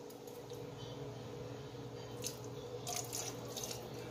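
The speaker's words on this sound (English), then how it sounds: "Then we're going to add our vinegar. I use an apple cider Bragg's." Bragg's apple cider vinegar pouring into a pot of neck bone adobo, a soft steady trickle of liquid over a low constant kitchen hum, with no talking.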